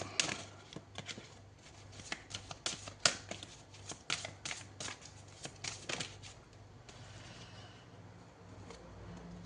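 Tarot cards being shuffled by hand, with a quick series of close, crisp riffling flicks and slaps that repeat for several seconds.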